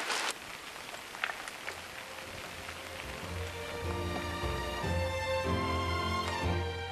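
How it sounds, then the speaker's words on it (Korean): Summer rain falls steadily outdoors in the countryside as a constant broad hiss of drops, with tonal music rising underneath from midway and no talking. "어머니 비가 오는데도 계속 이래요?"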